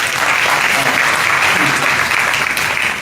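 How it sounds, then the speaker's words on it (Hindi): An audience at a Hindi church gathering claps continuously, a dense, loud, even wash of applause filling the whole moment without a break. "तो इसके लिए भी आप ताली बजा सकते हैं।"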